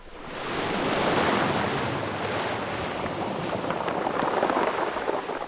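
Sea waves wash onto the shore in a broad, continuous roar that swells up and stays loud, with wind buffeting the microphone and no voices.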